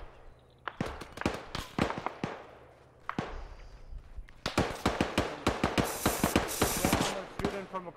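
Rapid bursts of gunfire in the ARMA 3 video game crack from across the street, irregular clusters of sharp shots with a short lull midway, then denser volleys, fairly distant and moderately loud.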